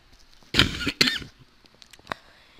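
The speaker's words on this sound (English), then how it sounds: "And I'm coughing again." A person coughs indoors, giving two loud, harsh coughs close together, then a smaller cough a moment later. Quiet background noise lies beneath the coughs.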